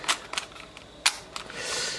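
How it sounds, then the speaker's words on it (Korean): Film being wound on a Wellica FA3 film camera, several quick ratcheting clicks spaced irregularly, close and crisp, followed by a short whirring rasp, with no talk. "필름 감아주시고"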